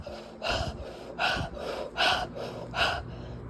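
Rapid, intensified conscious connected breathwork: four forceful, close breaths, each a sharp airy rush, arrive in an even rhythm roughly every three-quarters of a second.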